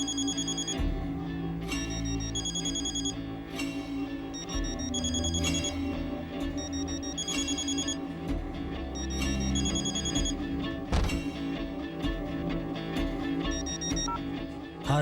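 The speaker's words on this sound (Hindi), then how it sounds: "क्या रे दत्ता, फोन उठाने में कितनी देर?" A telephone rings repeatedly in a steady pattern of bright, trilling bursts, fairly loud and alone in an indoor Hindi drama scene, with no talking over it.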